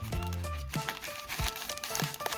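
Quick crinkly rustling and soft slaps as a stack of 2020 Contenders Draft Picks trading cards is shuffled up close, a few short bursts in a row.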